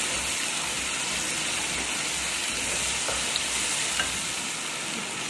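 Tomatoes stirred into onions frying in a pan for dhaba-style daal mash, a steady close sizzle and hiss throughout with a couple of faint stirring clicks, no voices.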